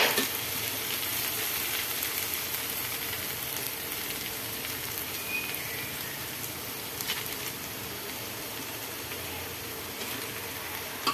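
Spice paste frying in a pan ahead of chicken going in, giving a continuous close crackling sizzle that holds steady for the whole stretch and sounds almost like rain, with no talking.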